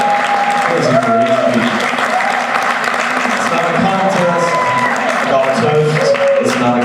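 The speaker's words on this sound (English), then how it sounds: "if we could get another round of applause for Kathy and Eddie" A round of applause from wedding guests at a reception fills the room, dense and steady throughout, with voices and cheering mixed into the clapping.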